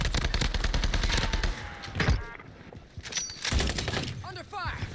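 Rapid automatic gunfire in an FPS video game, loud dense bursts that cut off abruptly, followed by scattered shots and game effects with a voice talking over the later part.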